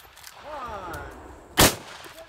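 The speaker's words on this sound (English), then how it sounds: "I'm going to try to shoot the first four" A single sharp, loud cowboy rifle shot at targets, with a voice speaking briefly just before it.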